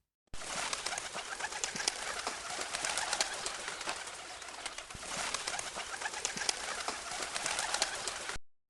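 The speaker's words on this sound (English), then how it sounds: "pigeon," Pigeons coo continuously for several seconds, a soft repeated throaty cooing set against dense, steady outdoor background noise, with no talk.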